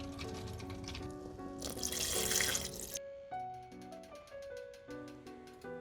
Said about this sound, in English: We're gonna add about 8 cups of water.